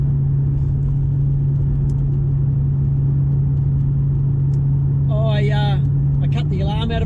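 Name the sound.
Toyota Celsior car driving on road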